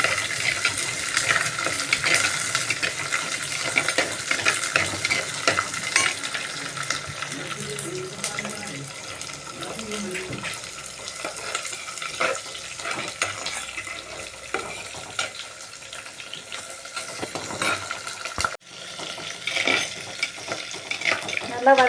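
Onions and green chillies sautéing in a clay pot for fish curry, with a steady sizzle and frequent stirring scrapes close by, continuing throughout with a brief dropout near the end.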